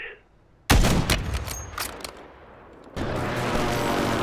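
An airstrike in Call of Duty: Warzone lands as a sudden heavy blast followed by several rapid booming impacts that fade, then a steady rushing rumble takes over.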